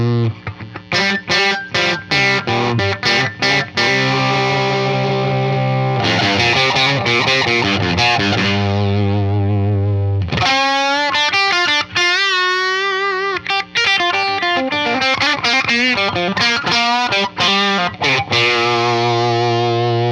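Electric guitar through a Matchless HC-15 amp with sustained overdrive, loud distorted chords and ringing held notes followed by a fast, singing lead line, played alone with no talk.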